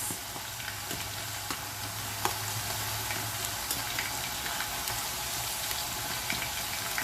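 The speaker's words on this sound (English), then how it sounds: "all my potatoes have gone into the oil. And I'll just give it a little mix." Potato pieces for dum aloo sizzle in hot oil on a high flame as they are stirred, a steady close hiss with occasional clicks and scrapes of the spoon.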